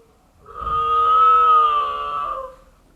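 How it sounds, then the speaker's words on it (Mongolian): A camel gives a single drawn-out moaning bellow of roughly two seconds, loud and close, steady in pitch with a rich harmonic tone before fading away. "тэмээ"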